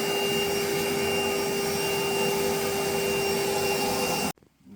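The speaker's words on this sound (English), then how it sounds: "we want to vacuum all this up and then clean this surface area so we can install the new fill valve" A vacuum draws leftover moisture out of a toilet tank during a fill valve replacement, a loud steady roar with a tonal whine that runs continuously, then cuts off abruptly near the end.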